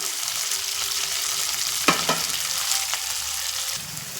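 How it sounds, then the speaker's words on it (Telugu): Grated carrot and sweet potato fry in a pan under a constant broad hiss, with a couple of brief clinks or scrapes midway, close and unaccompanied by speech. "అలాగే క్యారెట్ తురుము చిలకడ దుంప తురుము కొంచెం వేగిన తర్వాత క్యాప్సికమ్ వేద్దాం"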